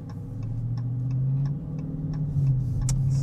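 Dodge Charger Scat Pack 2021 on the highway, a steady low engine drone rising slightly as the car gathers speed, with regular faint ticking over the top throughout.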